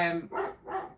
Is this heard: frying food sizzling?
no